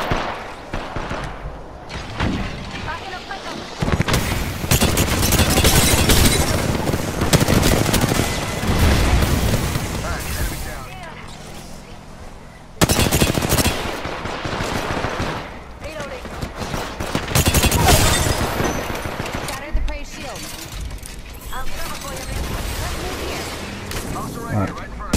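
Rapid gunfire in the shooter game Apex Legends, dense bursts of shots and booms going on almost without pause, loud and close, with voices talking over the fighting.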